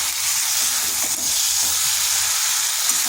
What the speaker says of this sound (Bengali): দিয়ে দিচ্ছি বেগুনগুলো। এইভাবে যদি সবজি আলাদা আলাদা করে ভাজা হয়